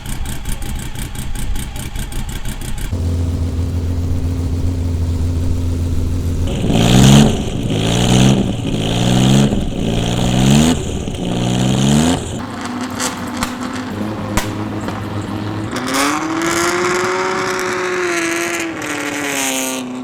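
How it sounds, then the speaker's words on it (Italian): Historic race car engines rev hard and loud at Imola circuit, rising and falling in repeated bursts, then a car accelerates away with a climbing, sustained roar. "Stanno per partire le auto storiche."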